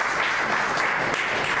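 A church congregation applauds together, a dense, steady wash of many hands clapping with no pauses, filling the room at an even level.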